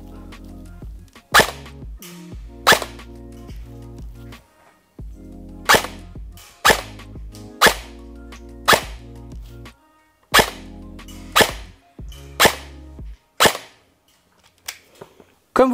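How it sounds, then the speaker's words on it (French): A VFC Avalon BCM airsoft rifle fires about ten separate shots of 0.20 g BBs, each a sharp, crisp crack, spaced irregularly with pauses between and a low hum underneath, close and clear. "On va faire notre petit essai pour voir combien au niveau de la puissance elle délivre. C'est parti, je vais faire à peu près 10 coups."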